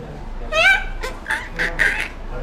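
A man imitates a parrot's call with a short series of squawky, nasal bird-like cries, one longer warbling call followed by several brief sharp chirps, close and fairly loud.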